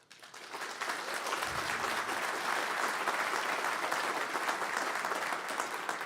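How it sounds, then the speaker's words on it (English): Audience at a Cape Breton-Canso-Antigonish candidates debate breaking into sustained applause after the candidates are introduced, rising quickly to a loud, dense, steady wash of clapping that holds to the end. "Definitely applause is encouraged"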